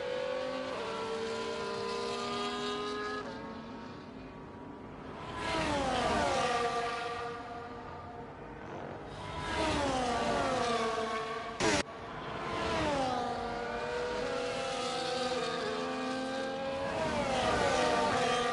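Race cars in a racing video game roar along the track, engines revving high and shifting pitch as cars pass and accelerate, loud and continuous with several overlapping engine notes.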